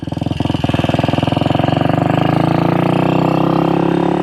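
A 1966 Royal Enfield Continental GT250 five-speed motorcycle rides through town, its single engine thumping in a rapid, steady pulse that rises slightly in pitch as it pulls away, loud and close.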